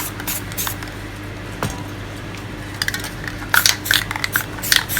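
A spray paint can hissing yellow and orange paint for spray paint art, in short bursts and sharp hisses, some clinking of can or tools in between, close by with no talking.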